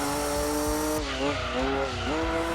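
A rear-engined race car in Gran Turismo 2 on PS1 driving through corners, its engine droning loud and steady with pitch dips as it brakes and turns in, then a short tire squeal, with no talking.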